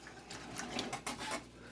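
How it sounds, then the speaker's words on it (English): A whisk scraping cornstarch off the sides of a saucepan of homemade sweet and sour red sauce, making quiet, close metallic rasps and clinks in short uneven strokes with no talking. "Just getting all the cornstarch from the sides."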